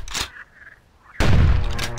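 Gunshots in the video game Carnivores Dinosaur Hunter: a short sharp shot, a quiet lull, then a loud booming blast with a rumbling tail.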